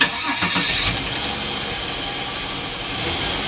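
An old car engine cranks and catches right away, a loud starting burst in the first second settling into a steady, rumbling idle that holds to the end.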